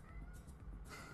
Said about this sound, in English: the cats just feel like chirping in the morning